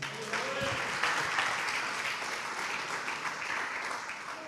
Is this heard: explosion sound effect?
no